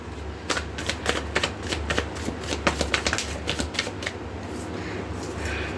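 Tarot cards are shuffled and drawn by hand, giving a fast run of crisp, close riffling snaps and flicks over steady low room hum, with no voice heard.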